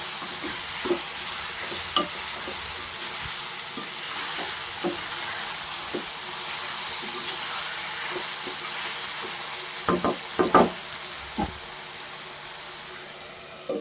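A ridge gourd and chana dal curry is stirred in a pan, giving a steady, close frying sizzle with scattered taps and scrapes of a spoon that cluster near the end, with no talking.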